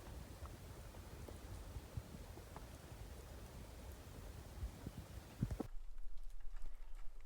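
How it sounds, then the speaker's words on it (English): Soft clip-clop of pack horses' hooves on a dirt trail in Yellowstone National Park, fairly distant and irregular, with wind and rustling outdoors; the scene quiets near the end. "We just came across a group of pack horses. They passed us on the trail"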